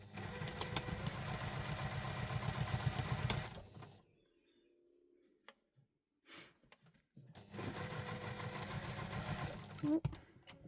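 A sewing machine bastes leather-style wallet pieces together, its fast, even stitching rattle heard up close in two bursts, the first about three and a half seconds long, then a quiet gap with small handling clicks before a second run of a few seconds.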